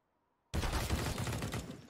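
Gunfire in a professional Counter-Strike match, Mousesports vs. North at StarSeries i-League: after half a second of silence, a loud, dense burst of rapid shots runs continuously to the end.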